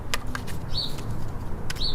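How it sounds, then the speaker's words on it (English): Birds outdoors, a few short chirps and whistled calls over steady low rumbling background noise, moderately close, with a faint flutter of wings. "I needed to get outside today and listen to the birds"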